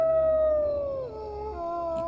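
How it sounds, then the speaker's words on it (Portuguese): A single drawn-out howl from a hairy, horrible monster as a story sound effect, loud and close, sliding slowly downward in pitch and holding steady without voices. "aquela coisa peluda e horrível se contorcia e uivava de uma maneira simplesmente"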